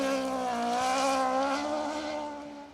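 A rally car, an RS 1800 at a 2WD stage rally, engine note holding steady at high revs, loud and close, then fading slightly as it moves away; no talk.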